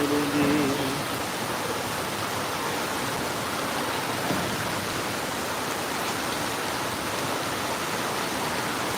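Heavy rain pours in a continuous, even roar of dense hiss that stays steady throughout, with no speech.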